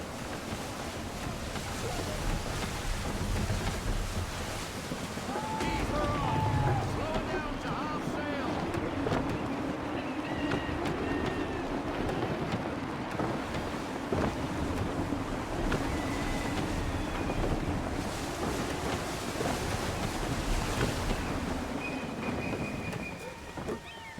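Steady gusting wind and rushing sea surge around a sailing ship during naval sailing in Assassin's Creed III, continuous and fairly loud for the whole stretch, with a few faint voices and creaks buried in the roar.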